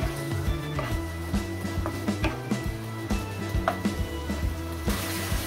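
Chicken fries in a pan with a steady sizzle, broken by scattered clicks and scraping sounds.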